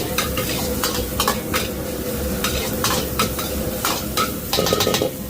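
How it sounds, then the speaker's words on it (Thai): Curry paste being stir-fried in a pan, a steady close sizzle broken by repeated scraping strokes of a spatula against the pan, with no voices. "ผัดเครื่องแกงก่อน"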